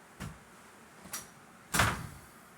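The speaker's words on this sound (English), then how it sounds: "close the door." A door is shut in a quiet room: two light knocks or rattles, then a firmer closing thud near the end, all close and fairly soft.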